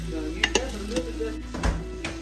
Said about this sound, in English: I'm going to kind of mix it up a little bit